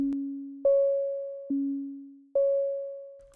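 A plain synth tone alternates between a low and a higher pitch, four notes in all, each struck cleanly and ringing out with a lengthened amplitude release that fades gradually until the next note.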